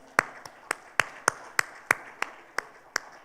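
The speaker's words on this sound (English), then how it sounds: "Can you please give a round of applause?" Claps ring out one at a time, evenly spaced and sharp, about ten in a row, from a closing ceremony audience at a toilet conference, with no talk over them.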